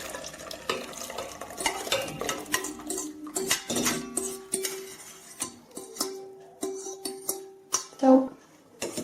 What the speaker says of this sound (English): Now we need to mix this mixture